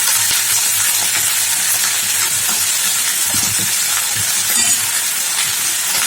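Taro root and brinjal pieces sizzle and fry steadily in a hot pan, a loud continuous crackling hiss with occasional stirring clatter, no voices.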